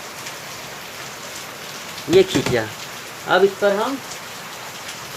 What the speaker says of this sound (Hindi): सामने बारिश हो रही है,